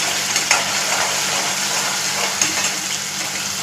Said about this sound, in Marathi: तेलावर चांगली परतून घ्यायची.